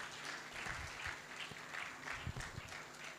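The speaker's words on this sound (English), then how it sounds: "Keep clapping, please." Audience clapping at the Tech Convergence 3.0 event in Nigeria, a steady wash of applause sustained for about three seconds with individual claps faintly audible and no talk over it.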